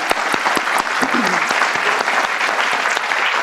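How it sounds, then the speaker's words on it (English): A forum audience applauds its guests with dense, continuous clapping, sharp individual claps rising over a close, loud wash of hands, a brief murmur of voices mixed in. "So let's give these folks a round of applause."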